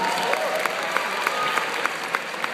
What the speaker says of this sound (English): A round of applause for the singing groups.